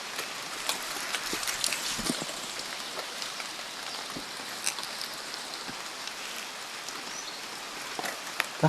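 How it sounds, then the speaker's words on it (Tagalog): Rain falling in a steep forest, steady close patter with sharp scattered drips and taps striking leaves and surfaces, no voices over it. "Ulan pa."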